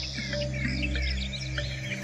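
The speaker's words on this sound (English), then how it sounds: "the wetlands are alive with birds in their hundreds of thousands" Many birds call across a wetland, a dense chorus of overlapping chirps and whistles over a steady low hum, busy and continuous throughout.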